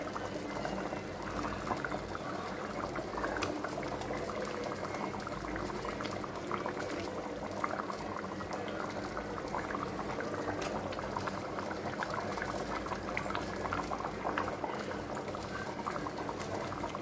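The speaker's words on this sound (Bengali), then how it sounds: "ঝোলটা ফুটে এসছে" Gravy for katla fish kaliya at a rolling boil in a pan, a dense, steady bubbling and popping that continues evenly from start to finish, close and fairly quiet, with no voices.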